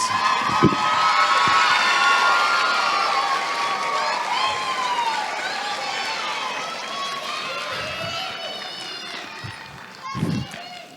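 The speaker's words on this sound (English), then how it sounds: "Let's give our semifinalists another round of applause." Crowd cheering and applause for semifinalists at a Utah pageant finals, with high shouts and whoops layered over clapping, loud and sustained, with voices and a tonal note running through it.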